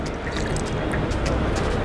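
Water splashes and trickles steadily from a water cooler, a continuous close liquid wash with scattered splashy bursts and no talk.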